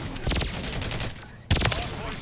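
Rapid bursts of gunfire in the Call of Duty video game, BAL-27 rifle, dense loud rattling shots in two volleys separated by a brief gap, with faint game noise underneath.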